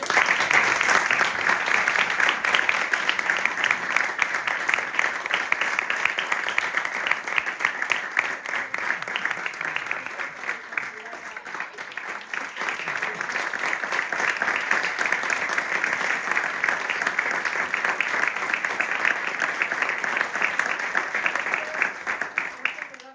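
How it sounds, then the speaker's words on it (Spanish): An audience at a literary event, the sixteenth Encuentros con Calleja, applauds for Mariano in a full, sustained ovation that fills the room, the sound steady for over twenty seconds with a slight dip midway before swelling again. "un fuerte aplauso para el maestro,"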